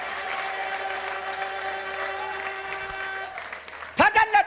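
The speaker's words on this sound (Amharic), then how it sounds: "ያንሳል ጭብጨባችሁ ባካችሁ።" A church congregation at a twelfth-anniversary sermon breaks into a short, loud burst of clapping at the very end. Before it comes a sustained tonal voice or music.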